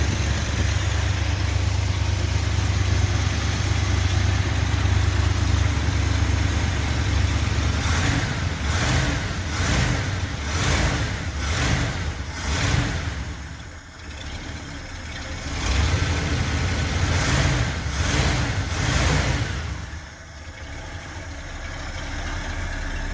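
A cold 1970 Ford F250 with an FE 360 V8 runs loudly and steadily at close range, its carbureted idle broken by several rhythmic clusters of revving before it settles back.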